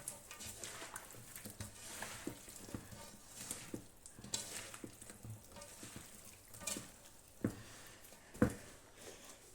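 Quiet, irregular scraping and clinking as a utensil stirs a salad dressed with vinegar in a bowl, with soft clacks scattered throughout.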